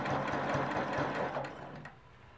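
Sewing machine stitching a whole-cloth quilt with a fast, steady mechanical whir close by, easing off and slowing as it backtracks over a row, with no talking.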